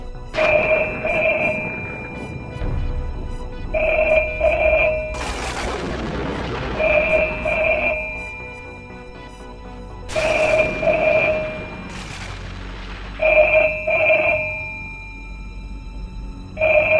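A telephone rings inside a house late at night, its electronic tone coming in repeated double bursts separated by short gaps, with low booming whooshes rising between the rings.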